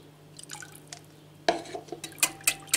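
White rum is added to a homemade coconut liqueur mixture: soft trickling and dripping at first, then louder splashes and glassy clinks near the end, close and with no talk.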